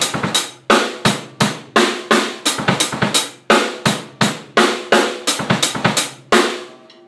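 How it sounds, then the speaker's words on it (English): Full drum kit playing a bass-bass-snare-snare pattern with the snare pushed onto the end of the fourth beat, a triplet figure; punchy, close and loud, repeating in tight bursts. "he plays bass, bass, snare, snare, and then he goes three triplet and triplet four"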